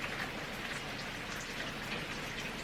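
Heavy rain pouring down outdoors, a dense, even hiss of countless drops striking surfaces, steady and unbroken with no voices.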